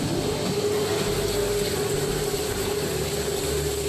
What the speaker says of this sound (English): Reciprocating identical tools cuts in unison during forward stroke.